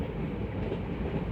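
Passenger train running on track past Sohawal station on the Barabanki–Ayodhya line, a steady close rumble of wheels and carriages with no pauses or talk.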